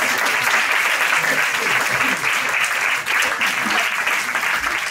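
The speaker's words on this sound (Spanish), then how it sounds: "Gracias por ese aplauso." Audience at a stand-up comedy show clapping continuously, a loud, dense, even wash of applause that holds steady from start to finish.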